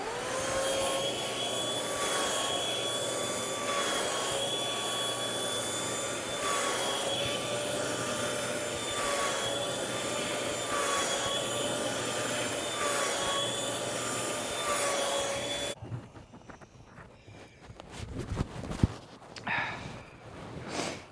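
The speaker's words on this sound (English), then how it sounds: "I actually have my vacuum cleaner that I got to try to get some of Willow's hair up." A vacuum cleaner runs close and loud with a steady tonal whine while cleaning dog hair off a living-room couch, then cuts off, leaving scattered clunks and handling noises.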